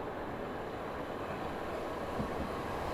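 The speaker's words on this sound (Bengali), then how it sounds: "আপনার ট্রেন এসে গেছে বোধহয়।" A train pulls into a station with a low, continuous rumble that holds at a steady moderate level, ending in a sudden sharp knock.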